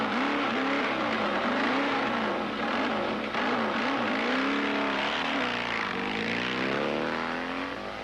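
A stunt motorcycle at 90 mph on a drag racing track, a loud continuous engine roar with shifting pitch sweeps as it passes, sustained throughout.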